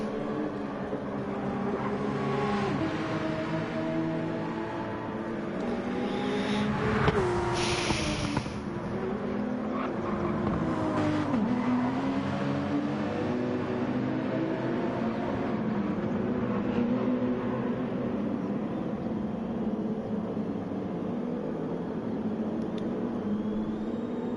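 A Porsche race car at Spa-Francorchamps in Gran Turismo 7, engine droning steadily with shifting pitch as it works through the circuit, a brief harsh burst partway through and a rough, continuous mechanical roar throughout.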